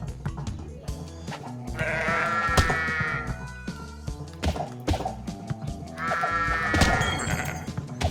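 Sheep bleat in a video game, two loud, wavering calls a few seconds apart over scattered thumps and game noise.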